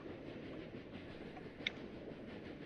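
A train in The Escapists 2 rolls along with a faint, steady low rumble and a single brief chime-like click, quiet throughout.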